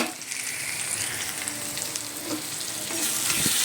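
Soaked food fries with chili, cumin, turmeric and coriander powders in a pan, a steady close sizzle running throughout with occasional scrapes and stirring clatter.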